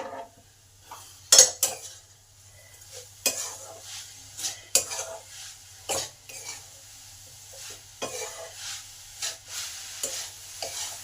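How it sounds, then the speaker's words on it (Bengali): Grated coconut and jaggery are stirred in a pan over medium heat, a spoon scraping in repeated irregular strokes with faint sizzling and a soft background hum between strokes. "নারকেলটা কন্টিনিউ নেড়ে যেতে হবে।"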